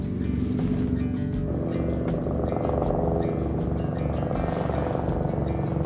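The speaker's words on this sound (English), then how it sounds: "Helicopter?" A steady, loud rotor-like mechanical drone with a rhythmic low thumping persists throughout, no voices, like a helicopter passing nearby.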